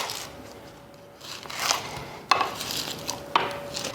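A knife cutting the ends off onions and skins being peeled for fermented salsa: soft rustling, then a few sharp clicks of a blade on a cutting board.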